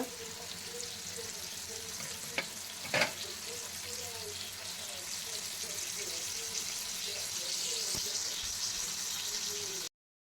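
Steady, close sizzling of Bangda fish frying on a tawa in North Karnataka style, a continuous crackle with a couple of brief metallic taps.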